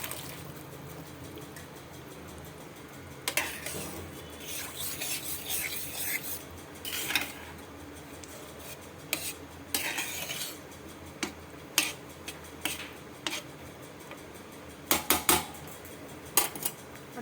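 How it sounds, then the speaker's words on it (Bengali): Boiled soybeans go into fried spice masala in a pan at home, heard as intermittent scraping and clinking of a metal spoon against the pan, quiet between sharper bursts of stirring. "মশলাটা কষানো হয়ে গেছে, এবার সয়াবিন সেদ্ধটা আমি দিয়ে দিচ্ছি।"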